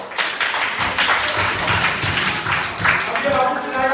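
A group of children clapping their hands together in a library classroom session, a brisk run of claps mixed with voices chattering close by.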